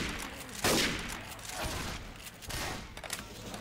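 Gunfire in Left 4 Dead 2 on a haunted forest custom map, with a burst of rapid shots near the start, then scattered thuds and further shots over steady game background noise.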